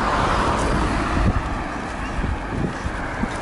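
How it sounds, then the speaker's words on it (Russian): A car passes on a road beside a curb, a broad rushing whoosh of tyres and traffic noise mixed with wind buffeting on the microphone, steady and moderately loud. "Как машина проехала?"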